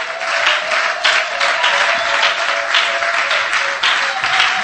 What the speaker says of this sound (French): Anne, est-ce que tu peux acclamer très fort le Seigneur?